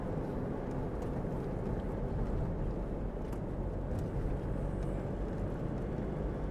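A steady, dense road rumble of an Innova car moving along a highway from Mumbai to Konkan as it overtakes a red state transport bus, a constant low roar heard from inside the vehicle without talk.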